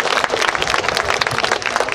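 Applause from an audience at a Korean statue unveiling ceremony, a brief, dense burst of many hands clapping at an even, loud level.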